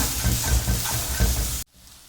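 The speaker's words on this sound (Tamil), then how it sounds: "நல்லா வாசனை, பச்சை வாசனைலாம் போடுற வரைக்கும் நல்லா வதக்கி விட்டுக்கலாம்" Crab masala sautéing with coriander powder in a pan, a steady close sizzle with the scrape of stirring, which stops abruptly near the end and leaves near silence.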